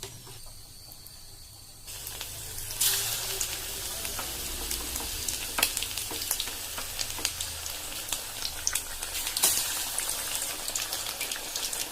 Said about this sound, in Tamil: இப்போ எண்ணெயில் பொரிச்சு எடுத்துடலாம்.